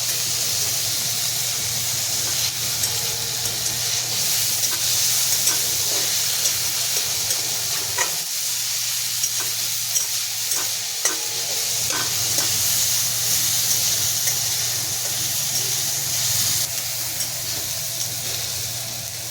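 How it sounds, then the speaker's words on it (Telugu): Noodles with tomato and chilli frying in a pan, a steady loud sizzle and hiss running throughout, with occasional scrapes and clicks of stirring. "తర్వాత మనం దీన్ని కొద్దిసేపు మిక్స్ చేసుకోవాలి మంచిగా"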